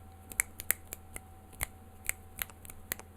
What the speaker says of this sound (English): Can you snap your fingers? I can snap my fingers.